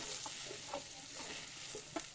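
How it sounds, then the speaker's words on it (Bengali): Round slices of bitter gourd frying in oil give a faint, steady sizzle with soft stirring scrapes at a regular pace, with no voices. "এখন করলাগুলো ভেজে নিচ্ছি"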